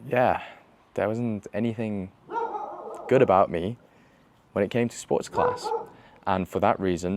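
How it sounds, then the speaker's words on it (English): Dogs bark in the background, partly masked by someone talking continuously over them. "sorry for my dogs barking"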